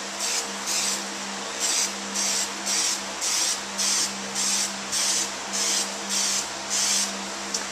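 An aerosol can sprays Nightshades tint onto a car taillight in short, evenly spaced hissing bursts, about ten in a row, close and fairly loud with brief pauses between them and no talking.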